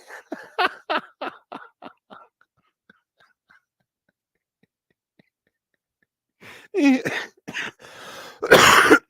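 Several short, sharp coughs in a quick burst, then quiet, followed by more harsh coughs and throat clearing close by.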